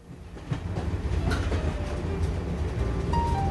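The Canadian passenger train rolls on rails through the Coast Mountains toward the Fraser River Canyon, a loud continuous rumble with rhythmic clatter building in after a quieter start, and a brief faint squeal near the end.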